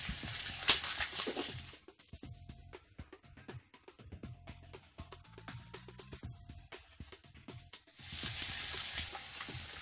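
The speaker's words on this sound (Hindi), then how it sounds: "प्याज को 1 मिनट के लिए भून लिए।" Chopped onions and green chillies frying in a pan: a hissing sizzle at the start and again near the end, with a quiet stretch of soft clicks and small stirring taps between them, and no voices.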